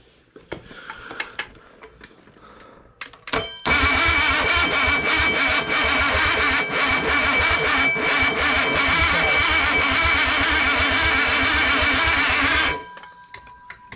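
A 1950s car engine cranks briefly and then fires up, settling into a loud, steady rough running roar close by for about nine seconds before cutting off, with faint voices around it.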